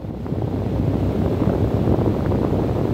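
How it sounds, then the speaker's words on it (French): Stormy wind gusts on a cold, grey seaside day, a loud continuous rushing roar against the microphone with no talking. "Le ciel est gris, il fait froid et le vent souffle en tempête."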